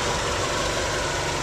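A Honda VFR1200 motorcycle engine idles steadily and close by, with a continuous, even rumble that holds without a break from start to finish.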